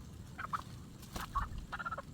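Soft clucking and gobbling calls from a captured wild hen come in short, scattered bursts, faint and fairly close, over low background noise.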